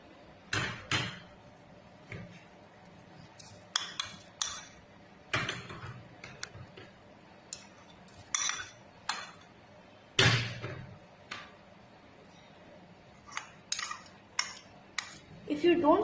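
A spoon mixing a corn flakes snack in a big bowl, giving repeated irregular clinks and scrapes of metal against the bowl with dry rustling between, close up and without speech.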